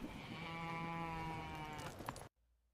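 One long, wavering goat bleat rings out loud and clear for about two seconds, then cuts off to near silence.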